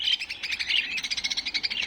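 Rapid, high-pitched chirping from rainbow lovebirds, a dense stream of short tweets close by with no talking.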